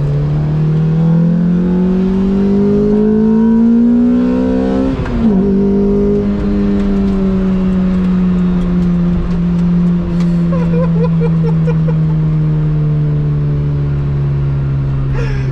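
A Lotus Exige S2 engine roars steadily at close range while driving over gravel, pitch rising and dipping with throttle, with scattered crackling and grinding noise from the gravel.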